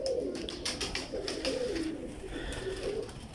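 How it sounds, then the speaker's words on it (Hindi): A Lal Pari pigeon, a home-bred line, cooing close by in a soft, repeated rolling coo that carries on steadily for a few seconds. "लाल परी कबूतर"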